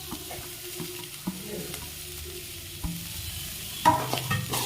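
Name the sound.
sautéing grated coconut in a pan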